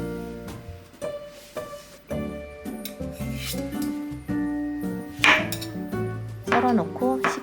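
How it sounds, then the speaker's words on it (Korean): A knife dices two boiled potatoes into small cubes on a board, giving a series of irregular, close knocks and cutting scrapes over soft background music. "감자 두 개를 삶아 작게 깍둑썰기 해주세요"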